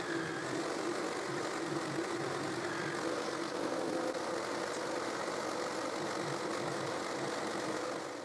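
A jigsaw cuts a triangle from a piece of plywood, its steady buzzing motor and rasping blade running continuously and close at a fairly even level from start to finish.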